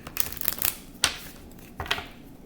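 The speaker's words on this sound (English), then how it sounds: "Let me shuffle." Tarot cards being shuffled by hand make quick papery riffles and slaps in several separate bursts, close and fairly quiet, with no voice over them.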